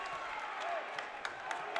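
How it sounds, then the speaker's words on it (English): Crowd noise inside the Scotty Hamilton Gymnasium during a high school basketball game between the Grafton Bearcats and the Southern Garett Rams, a faint, distant murmur of cheering with scattered claps and sharp sneaker or ball knocks at intervals. "The crowd loving it inside the Scotty Hamilton Gymnasium"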